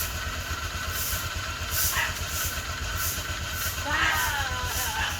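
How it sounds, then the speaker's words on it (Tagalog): Motorcycle engine idling while warming up on a rainy day in the Philippine countryside, a low steady throbbing rumble that runs throughout, with brief voices and light chirps over it. "Habang nag-aantay tayo mga katugad friends ng ilang minuto para sa pagpapainit ng makina ng ating motor."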